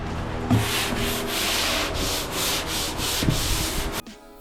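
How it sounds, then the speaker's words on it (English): Drywall in a shed is sanded by hand in steady, repeated rubbing strokes, close and fairly quiet, with a few soft knocks before it stops abruptly. "We gotta sand everything down."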